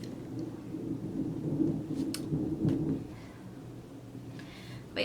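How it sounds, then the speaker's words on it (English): Thunder rumbles outside during a storm, a low continuous roll with a few swells in loudness, heard alone with faint rain-like hiss and no talking. "it's currently thundering and storming outside"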